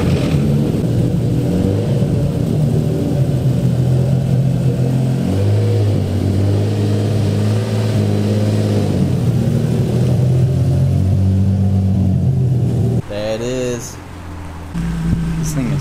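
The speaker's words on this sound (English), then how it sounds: "I'm gonna move our rod knock G35 out because it's still running." A Nissan G35 engine with rod knock runs and revs, a deep rumbling idle that rises and falls steadily close by. Near the end it drops away, followed by scraping and movement noises.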